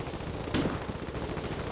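Twin heavy machine guns open fire in the Foxhole war game during a battle at Callahan's Gate: a sudden burst of gunfire rises out of a dense, continuous roar of battle noise and keeps rattling underneath.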